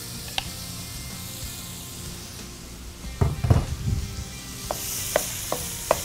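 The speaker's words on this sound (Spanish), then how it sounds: "Vamos acá fundiendo la margarina Mirasol. Y vamos a colocar la carne para que comience a dorar." Meat browning in melted Mirasol margarine in a pan, a soft steady sizzle with a burst of louder crackling as pieces are stirred or shifted, followed by a few sharp utensil taps.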